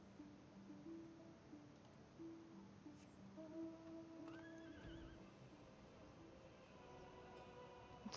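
A video-game horse neighs and whinnies in several faint drawn-out calls spread across the stretch, with a few soft hoof clops under quiet background sound.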